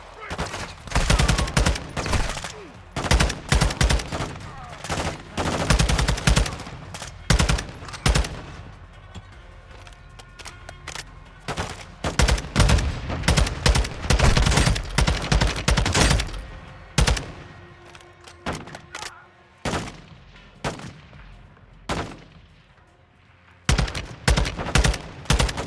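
Rapid video game gunfire with automatic bursts and single shots comes in repeated loud clusters over nearly half a minute, with brief lulls and faint voices in between.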